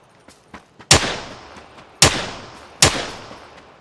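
Three sharp, loud gunshots ring out in PUBG, each a sudden crack with a decaying echo tail, spaced roughly a second apart, preceded by a few fainter distant pops.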